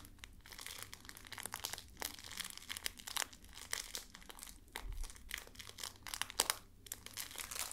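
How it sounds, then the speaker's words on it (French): Eraser rubbing back and forth over a drawing on skin, a close, dry, crinkly scratching that repeats in quick, uneven strokes. "Je gomme, j'enlève vraiment partout, qu'il n'y ait plus aucune trace"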